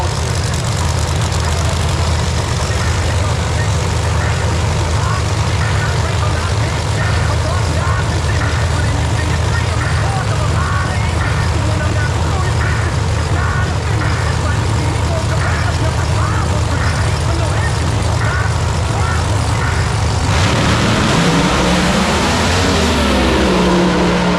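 Pro Mod drag race cars at Bradenton Motorsports Park make a loud, steady engine roar that holds for about twenty seconds, then shifts and fades near the end. Crowd noise and commentary are present throughout.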